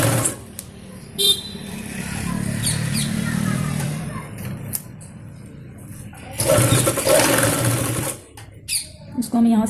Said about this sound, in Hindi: इस तरीके से पलटते हुए हम इस पर सिलाई लगा देते हैं।